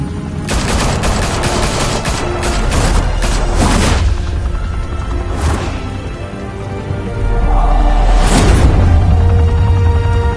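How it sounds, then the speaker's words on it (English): Rapid bursts of gunfire from several guns opening fire at once, loud and close, with dense overlapping volleys in the first four seconds, a single sharp burst later, then a renewed heavy barrage. "Open fire!"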